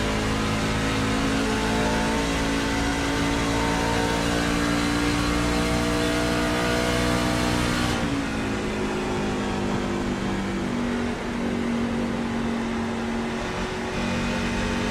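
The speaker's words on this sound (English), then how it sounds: "See how far off the throttle they have to get through that turn." Race cars at Darlington ease off the throttle through turns 3 and 4, a loud sustained engine drone that drops in pitch and tone partway through, blending with crowd and track noise.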